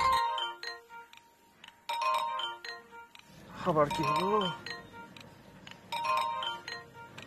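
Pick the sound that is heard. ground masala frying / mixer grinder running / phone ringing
phone ringing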